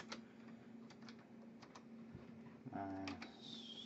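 Keys clack on a computer keyboard in a few scattered bursts over a low steady hum, quiet and close, with a faint tonal whine near the end.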